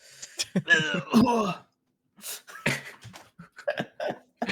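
A voice makes exaggerated sputtering, choking cough sounds in short bursts, a vocal imitation of coughing with gasps and pauses between.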